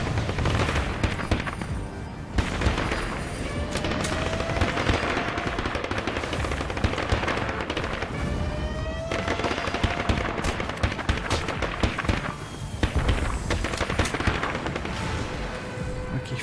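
Turrets in the video game All Guns on Deck fire nonstop, with dense, rapid machine-gun bursts and booming shots mixed with whistling projectiles, loud and continuous through the whole battle wave.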